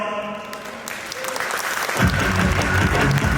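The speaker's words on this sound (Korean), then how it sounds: "박수!" An audience at a cultural festival gathering breaks into applause as music starts, a sustained crowd clapping over a band playing, with a strong beat entering partway through and continuing beneath the clapping.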